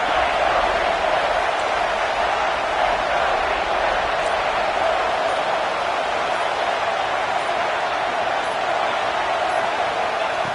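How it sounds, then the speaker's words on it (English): A stadium crowd in the College Football 26 video game roars as a broad, constant wash of noise that stays loud and unbroken for the whole stretch, with no speech over it. "And here comes the noise. This crowd is trying to inspire this defense to make a big red zone stop."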